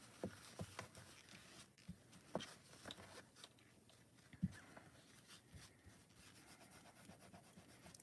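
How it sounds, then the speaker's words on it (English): A finger rubs an adhesive layer off a decorated photo, a faint, close, uneven scuffing with a few soft taps scattered through it and no talk. "sometimes if you have a stubborn spot, it might take a few times of rubbing it"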